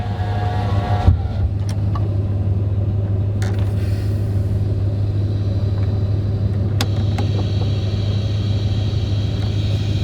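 Ram pickup truck engine running at idle, a steady low rumble close by throughout, with occasional clicks and creaks from work on the vehicle.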